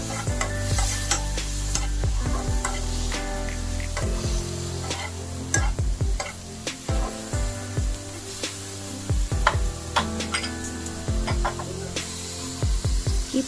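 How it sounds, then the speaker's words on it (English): Prawns and chopped garlic sizzle loudly in butter over a high flame, with a continuous close frying hiss broken by repeated scraping and tossing knocks of a utensil against the pan. "we'll add chopped garlic to the butter and prawns and keep the flame on high"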